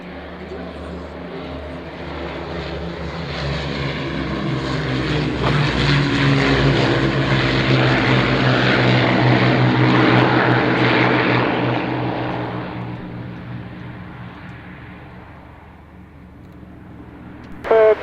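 A propeller aircraft sweeps past at the Duxford airshow, its engine drone swelling to a loud peak and then fading as it moves away, with an announcer's voice running over the sound.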